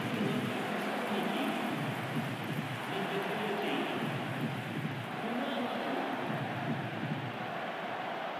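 Steady rain at a football stadium before an international match between North Macedonia and Ukraine, a continuous broadband hiss with a soft crowd-like murmur underneath, moderately faint and unbroken.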